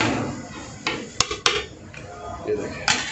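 A metal ladle scrapes and knocks inside a cooking pot while coloured rice for restaurant-style mutton pulao is mixed, giving a few sharp clanks among softer stirring.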